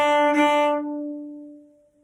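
A single bowed cello note, a Whiskey Before Breakfast rhythm example, sounds rich and strong at the start, then sustains and slowly fades over about two seconds, played alone without talk.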